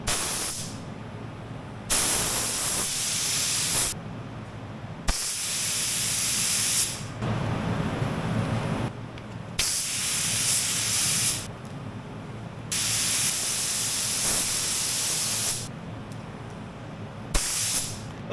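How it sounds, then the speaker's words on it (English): A spray gun lays candy paint onto an Indian Challenger engine, loud steady hissing bursts of about two seconds each, separated by short pauses, close and without talk. "we're going to go ahead and start shooting the first layer of candy down"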